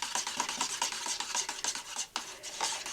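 Polyurethane resin being stirred in a container, a quick rhythmic scraping of the mixing tool against the sides, close and fairly quiet, without speech.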